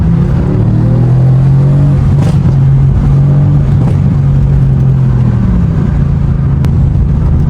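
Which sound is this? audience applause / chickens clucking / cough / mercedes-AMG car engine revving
mercedes-AMG car engine revving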